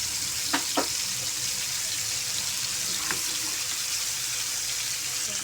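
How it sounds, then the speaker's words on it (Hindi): Masala-coated fish shallow-frying in a pan over low heat, a steady broadband sizzle running throughout with a couple of brief clicks or taps, no talking. "तो अब इसको हम फ्राई होने देंगे।"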